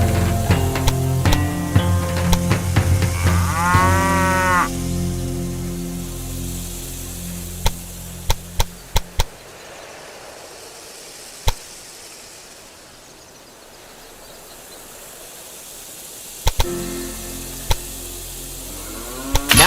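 A cow moos loudly, one long drawn-out call, near a cattle farm in Railway Empire 2, amid game background sounds and scattered sharp clicks before the scene goes quieter.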